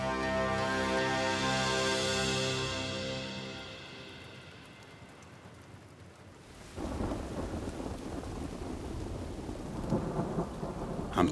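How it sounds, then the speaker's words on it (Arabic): A thunderstorm rolls on with a long, deep roll of thunder fading out, followed by steady heavy rain hissing on surfaces, loud and close, with no voices. "العاصفة عم تبعد."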